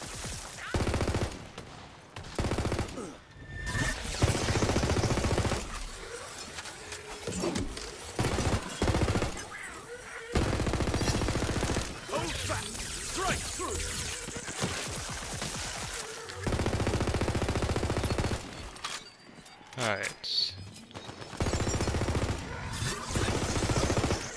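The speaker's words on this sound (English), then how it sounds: "Magic barrage!" A magic barrage attack fires in Tiny Tina's Wonderlands, loud rapid volleys in broken bursts with brief pauses between them, mixed with game effects and a voice talking at times.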